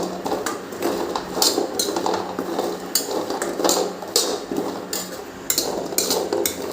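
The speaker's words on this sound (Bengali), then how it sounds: "কাঁঠালের বীজগুলো কিন্তু আমার ভাজা হয়ে গেছে" Jackfruit seeds being fried in a hot pan give off repeated sharp clattering and scraping as they are stirred and tossed against the metal, close and fairly loud with an uneven rhythm.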